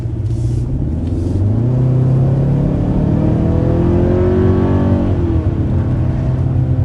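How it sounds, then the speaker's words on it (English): Turbocharged four-cylinder engine of a 2027 Kia Telluride heard from inside the cabin, a steady low drone that rises in pitch as the SUV accelerates, with a constant road rumble underneath and no talking. "some of the noise entering into the cabin is definitely not as refined"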